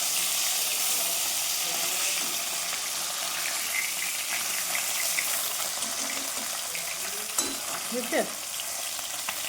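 Food frying in a pan in a home kitchen, a steady broadband sizzle and spatter running throughout with a few brief sharper pops, while a voice speaks briefly.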